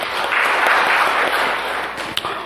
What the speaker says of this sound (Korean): 주님께 영광의 박수를 돌리십시다.